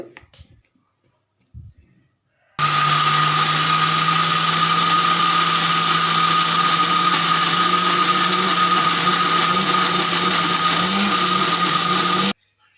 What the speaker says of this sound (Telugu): వేసుకొని మూత పెట్టేసుకొని మిక్సీ పట్టుకుందాము